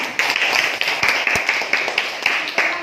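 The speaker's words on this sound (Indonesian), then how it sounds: "Tepuk tangan untuk Reza." Scattered claps from a small group of students in a classroom, brief sharp hits over a busy room murmur, fairly close and short-lived.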